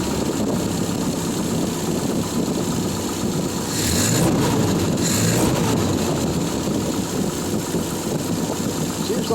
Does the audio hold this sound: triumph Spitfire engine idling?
yes